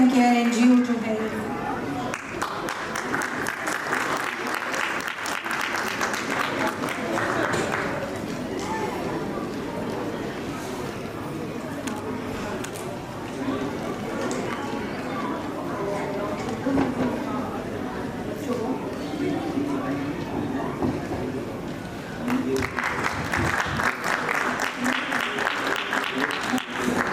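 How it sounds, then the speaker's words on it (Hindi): An audience claps loudly at a foundation day event, with sustained applause filling most of the stretch and cheers and talk mixed in, the clapping swelling again near the end. "जोरदार तालियों के साथ कहेंगे Bhupendra Rawat ji, help and care NGO to help."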